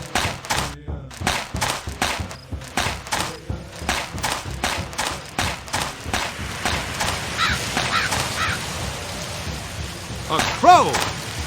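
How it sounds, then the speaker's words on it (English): Crow caws in a Lionel Trans-Con video game play over a steady rhythmic series of thumping game effects, with a sharper call rising near the end. "A crow!"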